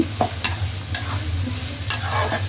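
Sliced onions sizzle and fry in a hot pan for a spicy dried loitta fish curry, with a steady crackle and a few scraping stirs close by.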